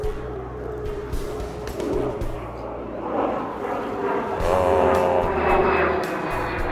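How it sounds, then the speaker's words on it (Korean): Fighter jet passing over a fishing pond near an airfield, a loud broad engine roar that builds and swells across the sky, steady and droning with no talk. "계속 비행기가 날아다니는데 조금 시끄럽긴 하네요. 어, 저기 또 온다, 전투기."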